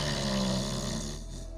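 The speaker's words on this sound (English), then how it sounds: "Oh shit, they fucking snore." Someone snoring in a tabletop role-playing game session, a low rumbling breath, steady and close, tapering off after about a second.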